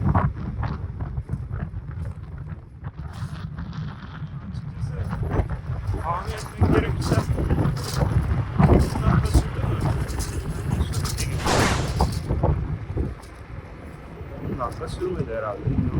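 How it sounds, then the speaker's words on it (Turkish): Gusty seaside wind at Caddebostan, Istanbul buffets the microphone with low rumbling bursts, while a voice talks intermittently and traffic passes nearby. "bayağı rüzgar var. Rüzgar savurdu resmen."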